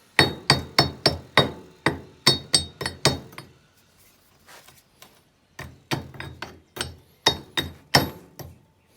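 A hammer taps on a spring-loaded pin in a Land Rover, sharp metallic strikes coming in quick regular bursts, a pause, then another run of taps, close and without talk.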